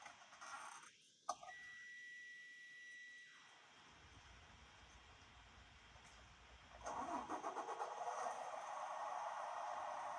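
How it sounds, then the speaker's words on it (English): A truck engine cranks and catches with a brief whine, falls quiet, then settles into a steady low idle rumble, heard up close with no talking. "I'm going to start the truck."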